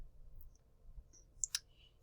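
Two quick, faint mouse clicks close together, sounding alone against a quiet room with a low background hum while a birthday card is laid out in design software.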